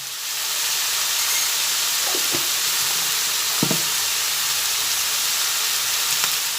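Chicken sizzles loudly and continuously in a pot as it is stirred for a chicken dum pokto, the steady frying hiss broken by a few short scraping knocks of the spoon, no voices.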